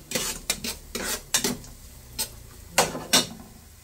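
Spaghetti and carrots being stirred in a large cooking pot, with several distinct scraping clatters of utensil against metal at irregular intervals, fairly close and clear, no talking.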